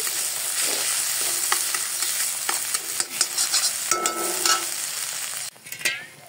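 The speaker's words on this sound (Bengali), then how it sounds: "মশলাটা কষানোর জন্য একটু জল দিয়ে দিব। একটু ভালো করে কষিয়ে নিই।" Spices are stirred and fried in a pan with prawns, new potatoes and tomatoes, with a steady close sizzle and repeated scraping strokes of the spoon, no talk.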